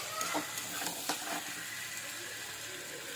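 Marinated prawn mixture spiced with cumin powder and salt sizzles and hisses in oil in a wok, with a few stirring scrapes over the steady frying noise; quiet and close, no talking.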